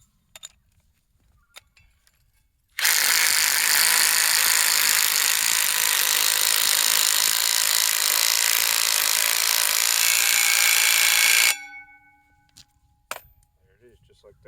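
A Bosch Freak driver drives screws into column brackets with one loud, steady whir lasting about nine seconds, bracketed by brief clicks and handling noises before and after.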